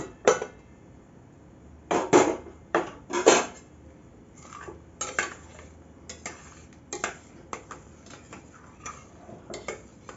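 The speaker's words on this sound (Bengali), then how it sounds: "আমার সম্পূর্ণ সিটিটা বসে গেছে, এবার ঢাকনা খুলে নেব।" A pressure cooker lid comes off and a spoon stirs mixed-lentil dal. Sharp metallic clanks and knocks come at scattered intervals, close and fairly loud against a quiet kitchen.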